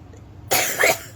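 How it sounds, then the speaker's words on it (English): One sharp, close cough after a moment of quiet. "Like coughing."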